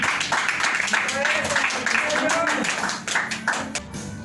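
A church congregation claps in praise during a Spanish-language worship service, dense steady clapping with voices calling out over it, tapering off near the end.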